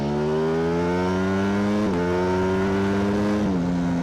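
A motorcycle accelerates hard on an open road, its engine note rising steadily with two clear gear shifts that briefly drop the pitch before it climbs again, loud and close throughout with no talking.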